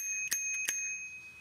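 The bell on a ByK E-450 kids bike rings twice, two bright, close metallic dings with a short lingering ring.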